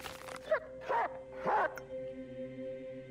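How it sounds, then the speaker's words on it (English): Three short, quiet dog barks in a row from the video game Reigns, each a brief yelping woof, over a soft sustained electronic drone. "That's an interesting woof, isn't it?"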